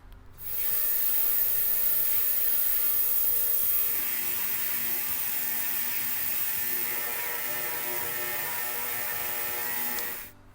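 The freshly refitted wheel of a 1987 Honda XL600R spins freely on its bearings, giving a smooth, steady mechanical whir that holds for about ten seconds before stopping.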